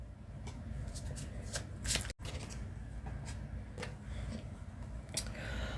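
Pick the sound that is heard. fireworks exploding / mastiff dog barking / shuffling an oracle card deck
shuffling an oracle card deck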